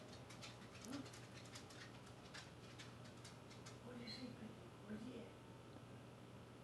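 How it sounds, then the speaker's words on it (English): A dog barks a few times at a distance, faint under steady room noise and a person talking nearby. "What's he barking at?"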